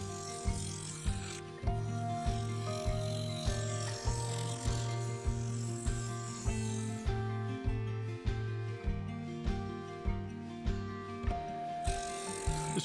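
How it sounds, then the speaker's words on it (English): A skew chisel smooths a wood and black epoxy resin turning on a lathe, giving a steady humming drone with a rhythmic, evenly spaced clicking pulse as the piece spins against the blade. "Then I used a skew chisel to blend and fare the curves into the side."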